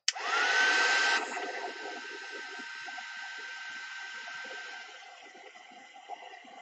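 A heat tool blows hot air to dry and set ink, starting with a sharp click and a loud whirring rush and high whine, then settling into a softer steady hum that fades slightly toward the end.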